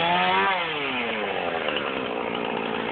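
Small Husqvarna chainsaw cutting branches up on a roof: the engine revs down in pitch as the chain bites, then settles into a loud, steady rasping cut, close and continuous.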